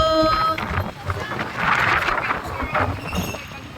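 Strong typhoon wind roars and buffets the microphone in broad rushing gusts, with a voice talking briefly in Filipino at the start.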